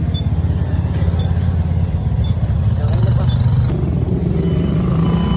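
A motorcycle carrying a rider and a passenger rumbles steadily along a highway on the way to a gas station, a constant low engine drone with wind noise, while a voice talks over it.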